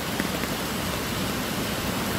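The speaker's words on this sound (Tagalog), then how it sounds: "malakas ata yung ulan ngayon." Heavy rain pours steadily, a dense continuous broadband wash that fills the whole clip at an even, loud level with no voices.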